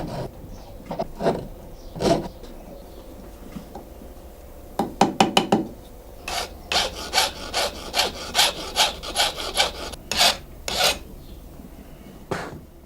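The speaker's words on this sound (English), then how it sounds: "For filing, the horn handle is placed on a pin held in a vise." A file rasps against a horn knife handle mounted on a pin in a vise, with irregular scraping strokes that become a steady rhythmic series of close, distinct rasps.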